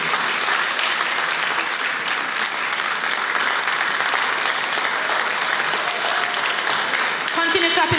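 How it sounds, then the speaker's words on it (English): Sustained audience applause fills the hall at the Jamaica Poetry Festival 2022 as a lifetime achievement awardee is welcomed, dense continuous clapping at a steady level with a murmur of voices beneath it. "Continue clapping, make her welcome."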